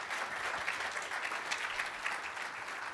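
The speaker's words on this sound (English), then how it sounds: "Miles a round of applause, please." Steady applause from a crowd at a student athlete summit, a continuous wash of many hands clapping at moderate, even volume throughout.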